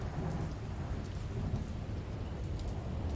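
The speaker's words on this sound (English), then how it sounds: "Yeah, it's definitely thunder." Thunder rolls beneath steady heavy rain at the start of an album, a continuous dense storm wash with low rumbling swells throughout, no voices.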